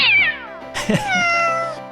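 A pet cat named Lily meows twice, a long drawn-out call followed by a shorter one, close and clear with no talking.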